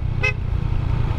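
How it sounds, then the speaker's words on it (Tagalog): A car horn gives one short honk near a cemetery in Nueva Ecija, sounding briefly over steady engine and road rumble. "Kailangan mo talagang busina rito."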